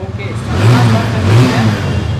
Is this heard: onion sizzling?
no